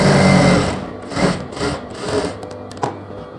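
A sewing machine runs in short bursts while stitching along the folded edge of a semi patiala pant, the needle's rapid whir loud and close, pausing and restarting several times before a few clicks at the end.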